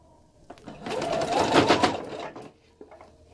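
A sewing machine runs a steady stitching burst while bias binding is sewn onto a patchwork nine-patch pot holder, loud and close, with faint handling clicks before and after and no talk.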